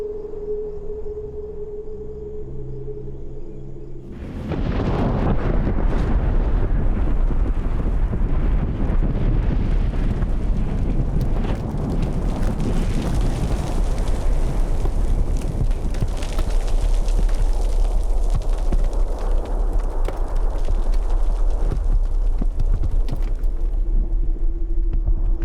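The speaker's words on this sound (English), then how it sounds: "The explosion shatters the dome, sending chunks of lava away at supersonic speeds" A volcanic crater erupting, the blast shattering its lava dome: after a quiet rumbling lead-in, a sudden deep explosive roar breaks in and stays as a sustained, heavy rumble with gusting, wind-buffeted crackle for the rest.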